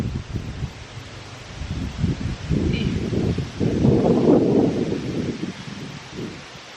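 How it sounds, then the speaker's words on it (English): Wind outdoors buffets the microphone in uneven, rumbling gusts that swell and fade, strongest in the middle, with a rustling, leafy texture and no talk. "The wind is starting to pick up, so I apologize, hoping that it's fine and you can still hear me."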